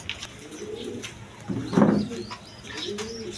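Pigeons in a loft give soft, repeated throaty coos, one swelling louder near the middle, with faint chirps and rustling around them.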